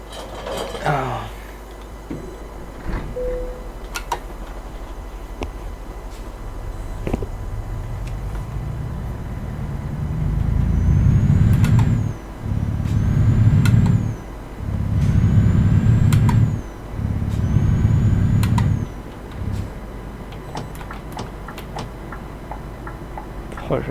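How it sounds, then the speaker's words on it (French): Turn signals on a Scania truck in Euro Truck Simulator 2 tick in a steady rhythm over a low idling engine, with rhythmic surges of engine noise and a few sharp clicks. "j'adore le son des clignotants"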